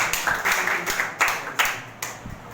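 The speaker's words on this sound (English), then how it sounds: "So again, clapping for Sir Amir Abru." A small audience claps in an uneven, rolling burst of applause, fairly close and steady throughout.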